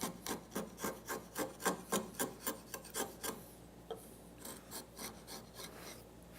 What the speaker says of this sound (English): Then you can come back with a chisel and just clean up right towards the end right there.